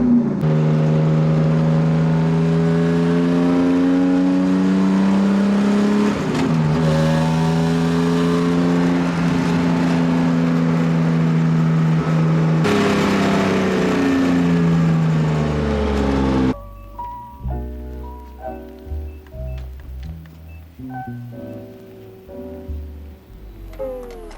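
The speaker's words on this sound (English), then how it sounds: "we're gonna go do a test drive real quick and put some gas in" A BMW E36 on a test drive, its engine droning and rising through steady revs as the car pulls along, close and loud, then cutting to a quieter stretch with music-like tones.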